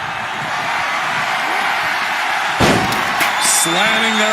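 A wrestler is slammed in WWE 2K25: a sharp, loud impact hits midway over steady arena crowd noise, followed by short bright sound effects and tonal cues.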